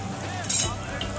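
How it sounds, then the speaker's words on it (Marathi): Garlic and curry leaves dropped into hot oil before frying bangda mackerel give a brief, sharp hiss of sizzling that rises and fades, with someone talking over it. "आता लसूण घालून घेत आहे, कढीपत्ता घालून घेत आहे"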